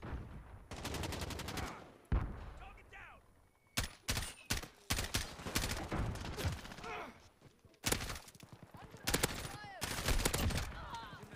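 Bursts of gunfire in Call of Duty: Modern Warfare (2019), sharp broadband volleys repeating in clusters across the clip, loud and close, with quieter game ambience and faint voice-like sounds between shots.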